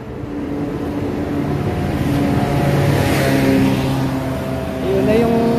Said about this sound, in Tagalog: Ayun na yung bus guys.